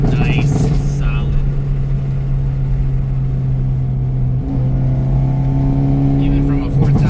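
Hyundai Elantra N engine drones loudly from inside the cabin while driving, a sustained mid-range rev that shifts pitch partway through, with people talking over it.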